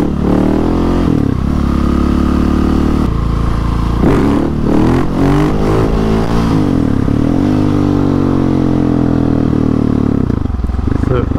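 A motorcycle engine revs hard through its gears on a wet road, loud and close, with pitch rising and falling at each shift and a rough patch around a missed gear.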